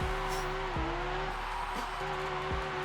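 A twin-turbo Lamborghini Huracan drifts in Forza Horizon, its engine holding a steady drone while tires squeal in brief bursts near the start and end, loud and close.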